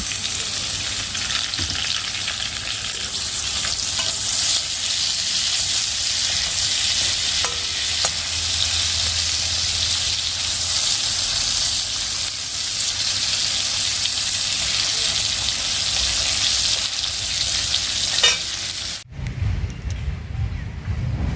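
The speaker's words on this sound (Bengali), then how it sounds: "ডালের কড়াইটাই আমি একটুখানি ধুয়ে নিয়ে এখানে পটল ভাজাটা করে নিচ্ছি" Pointed gourd (potol) frying in a wok with salt and turmeric gives a steady, loud, close sizzle for about nineteen seconds, ending in a brief burst of other noise.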